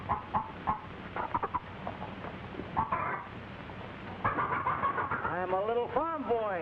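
Chickens cluck in a farmyard in an old family comedy film, the clucking mixed with other barnyard sounds and voices, and a rising, bird-like warble near the end.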